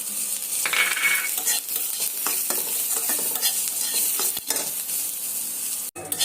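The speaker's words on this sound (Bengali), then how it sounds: "আমার এই পাতাটা ভাজা প্রায় হয়ে এসেছে" Leafy greens sizzle in a pan while a utensil stirs and scrapes them, a close, steady frying hiss broken by irregular stirring strokes and a sharp metallic clank near the end.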